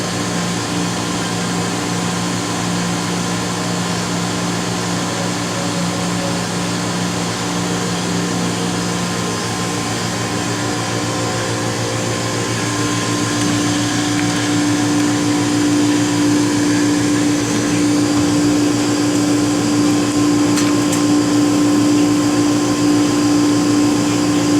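The vacuum pump of a Plasmatherm SLR-730 dual chamber PECVD system pumps the chamber down to base pressure, a steady loud whirring drone with a tone that shifts partway through and then holds on.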